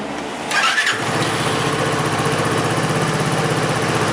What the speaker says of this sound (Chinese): 现在我们把它发动之后